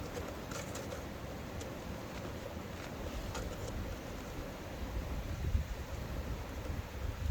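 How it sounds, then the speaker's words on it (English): Gusty wind in a Rocky Mountains forest rumbles low and steadily against the microphone, swelling slightly toward the end, with faint higher sounds scattered above. "Super windy."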